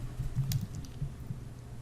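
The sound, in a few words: keystrokes on a Mac keyboard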